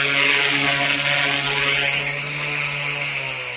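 A Goosky S2 Legend RC helicopter comes in to land outdoors, its rotor whirring with a steady high-pitched motor whine close by that eases slightly as it settles.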